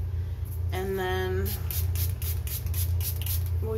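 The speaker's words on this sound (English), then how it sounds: "So let me spray my face one more time" Face spray misted onto the face during bridal makeup, several short hissing spray bursts in a quick series, close and clear over a low steady hum, after a brief voiced sound.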